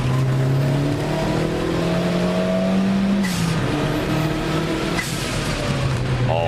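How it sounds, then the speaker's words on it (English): A Peugeot 205 T16 hot hatch laps the Nürburgring, its engine loud and close as it climbs through the revs, drops on gear changes and pulls again, with short bursts of shifting and a brief tire squeal. "I love the sounds of this car on the track too."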